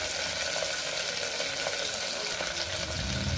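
Onion, curry leaves and capsicum fry in a pan for chicken pulao, giving a steady, close broadband sizzle with no talk.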